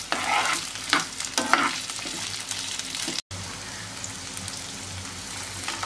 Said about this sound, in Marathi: एक वाटी शिमला मिरची, तो छान प्रकारे तेलात फ्राय करून घ्यायचा आहे